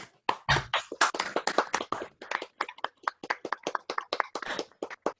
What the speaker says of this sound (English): We're going to applaud our two speakers